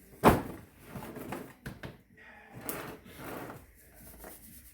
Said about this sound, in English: Rub it in, pat it down.